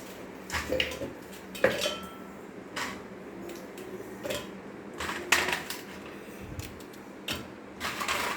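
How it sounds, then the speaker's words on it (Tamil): Happy biscuits and a halved chocolate roll broken by hand into a container for a homemade milkshake, scattered crisp snaps and clicks over a quiet room, close and fairly soft. "எல்லா பிஸ்கெட்டையும் உடச்சி போட்டுக்கலாம் ஃப்ரெண்ட்ஸ்"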